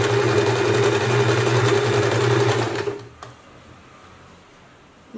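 Sewing machine zigzag-stitching along the curved sleeve of a draped gypsy-style dress, running loud and steady for about three seconds before stopping, followed by near silence and a faint click at the end.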